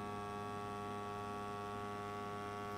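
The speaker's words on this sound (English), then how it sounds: "the electric motor is creating the vacuum" A faint, steady electric motor hum drones on without change as it pumps a vacuum in a prosthetic socket, a low tonal buzz with no other sounds.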